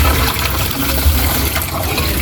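Water pours steadily onto sweet potato plants being watered outdoors, a continuous close splashing and trickling wash with no talk over it.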